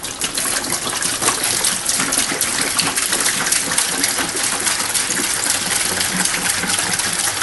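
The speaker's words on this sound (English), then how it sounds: "We're going to put the vinegar" A loud, steady gush of 9% vinegar pours into a bucket for descaling a Navien tankless water heater, the splashing stream continuous and close for several seconds.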